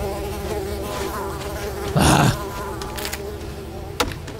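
Mosquitoes in the video game Unravel whine in a steady, thin buzz under game ambience, rising into one loud close burst partway through, with a brief spoken exclamation.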